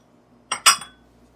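A spoon knocks against a bowl twice in quick succession, sharp and close, while yogurt is mixed into bhature dough. The knocks stand alone in a quiet kitchen.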